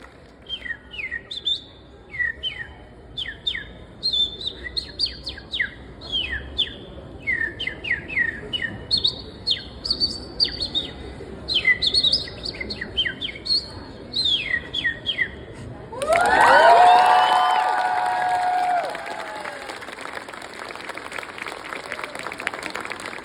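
A contestant at a Polish bird-imitation championship mimics a house sparrow with rapid, repeated high chirps in close bursts, followed by a swell of audience applause.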